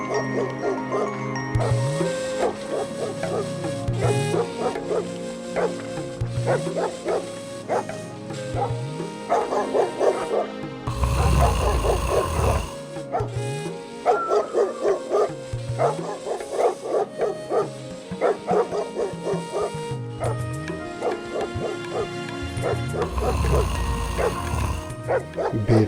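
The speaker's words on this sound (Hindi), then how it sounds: "बहुत सारे कुत्ते भौंक रहे हैं।" Many dogs bark in a Hindi cartoon moral story set around a village farm field at night, with repeated loud yips and barks overlapping steadily over background music.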